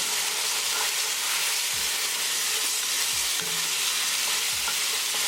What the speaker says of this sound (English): Add tomatoes. Mix it well.